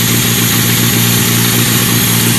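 A small engine with a dirty carburetor runs with the choke on, a loud steady chugging idle with a rapid even pulse that continues throughout.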